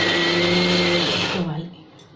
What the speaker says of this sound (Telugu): ఇప్పుడు మిక్సీ వేస్తాను